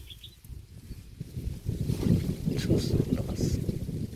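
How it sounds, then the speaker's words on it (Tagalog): Strong wind buffets the microphone outdoors on a hunting trip, building from faint gusts into a louder, sustained low roar over the last half. "Ang hangin."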